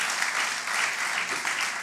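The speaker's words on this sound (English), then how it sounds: "Celebrate them with another warm round of applause." An audience gives a warm round of applause for the organizers at a closing ceremony of an aviation negotiation event, with steady, continuous clapping from many people throughout the short burst.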